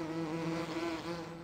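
A wooden hive with a metal lid in Farming Simulator 2017 hums with bees, a continuous even buzz holding a clear droning tone, close and unbroken, with no talking.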